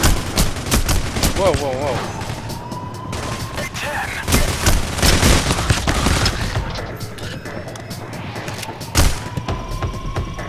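Gunfire in the heist shooter Payday: The Heist, with bursts of shots and booms scattered through a busy firefight while people talk and exclaim over the top.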